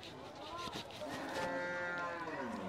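Cattle at a rural livestock market in Chandina, Comilla, give a long, drawn-out moo that rises and falls, heard fairly close over low market background noise, with no voices.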